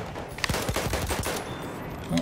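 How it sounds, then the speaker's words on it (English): Rapid gunfire bursts crackle through a Battlefield 1 match on Xbox One, a string of sharp shots in the first second and a half, then a lone louder report near the end. "Who's shooting at me?"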